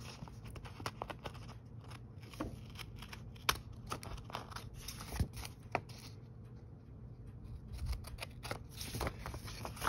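Scissors snip through tape on a paper envelope bookmark, a quiet close run of sharp clicks and crisp cuts with rustling paper between them.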